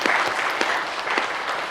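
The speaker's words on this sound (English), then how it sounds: "but I do want a round of applause" An audience gives a brief round of applause after a talk on nuclear colonialism and resistance, dense steady clapping close by and filling the whole moment without any voices.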